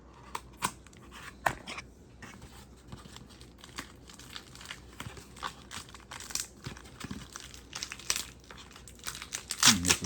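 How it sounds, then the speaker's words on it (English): Packaging tape on a Beyblade X toy box being sliced through, giving scattered sharp crinkling snips and plastic rustles up close, with a louder burst of crackling near the end. "you can just cut through the tape"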